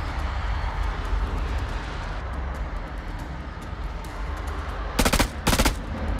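Gunfire in the horror video game House of Ashes: a steady rumbling battle bed, then two loud bursts of rapid shots near the end.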